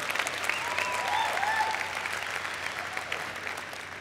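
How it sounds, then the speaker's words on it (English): Audience applause at a CPAC political conference, a steady wash of clapping from a large crowd, moderately loud and sustained throughout with a few faint whistles. "Yeah, you can clap for that."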